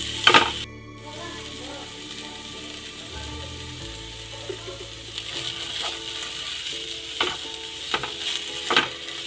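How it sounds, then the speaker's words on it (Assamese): Chopped banana flower and potato being mixed in a pan, with a scrape or two at the start, then a low frying sizzle under repeated irregular spatula scrapes and clinks, close by. "এতিয়া এইখিনি ভালকৈ মিক্স কৰি ইয়াত সোৱাদ অনুসৰি নিমখ এড কৰিম।"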